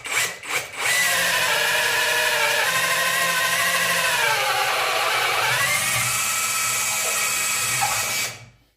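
A Parkside PKHAP 20-Li cordless hammer drill in drill mode at speed 6 bores with a 20 mm bit. A couple of short blips lead into a loud, steady, high whine that dips in pitch midway under load and then cuts off.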